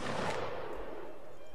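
A musket shot rings out in the Napoleonic Wars game Mount and Blade, a single broadband crack near the start that decays into a rolling echo with battlefield noise beneath it.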